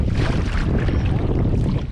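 Wind buffeting across open water around a canoe on its first trip, a steady, loud roar and rumble of gusts on the microphone with faint water movement, no talking.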